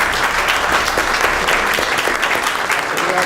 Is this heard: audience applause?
yes